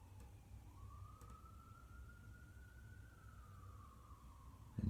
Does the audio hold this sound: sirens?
yes